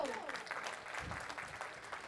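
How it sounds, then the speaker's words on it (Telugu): The crowd at a Telugu community association's chapter launch event in New Jersey gives a round of applause. The clapping is soft and distant, a steady patter with a few brief swells. "ఒక్కసారి అందరూ గట్టిగా చప్పట్లు."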